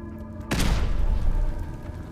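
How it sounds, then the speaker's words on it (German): A gas canister explodes in the video game Fallout 4, one loud close boom with a sharp onset followed by a long rumbling, crackling decay that fills the rest of the moment, no speech over it. "Der Benzinkanister ist explodiert."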